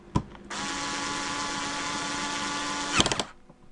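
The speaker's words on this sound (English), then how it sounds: "So I'm going to put these 3 screws back in." A power drill drives screws back into a Sebo X7 vacuum cleaner in one close, steady whirring burst of about two and a half seconds, ending with a few clicks and a short rattle.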